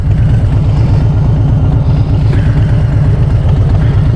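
A 2019 Harley-Davidson Street Bob cruiser's large V-twin engine runs steadily at close range, a loud, continuous low throbbing rumble with an even pulsing beat and no talk.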